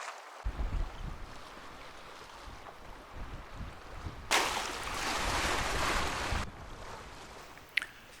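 A sailboat runs downwind in 16 to 18 knots of breeze under its head sail alone: steady wind rush and water swishing along the hull, with a louder surge of splashing waves partway through and a sharp knock near the end.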